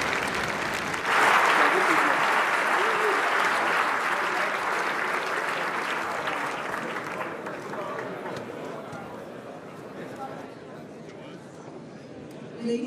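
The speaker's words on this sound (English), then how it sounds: "we'd like to have another round of applause for the Chancellor" An audience applauds Federal Chancellor Angela Merkel at an event in Munich, a broad, sustained wash of clapping from a large crowd that holds steady and then slowly tapers off.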